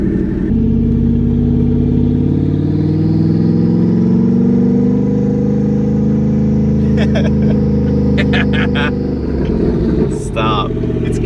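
A Porsche Panamera Turbo with a side exhaust and no crossover, its engine revving loud and close in a long, rising and falling pulsing drone that ends with a few sharp clicks.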